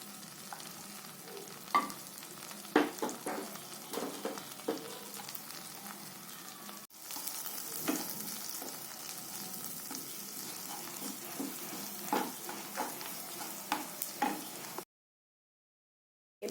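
Finely chopped garlic cloves fry in melted butter with a continuous crackling sizzle, broken by occasional sharper pops and stirring clicks, close up and free of talk, before it cuts to silence near the end.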